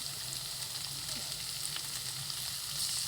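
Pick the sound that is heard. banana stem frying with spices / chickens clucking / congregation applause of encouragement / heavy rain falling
banana stem frying with spices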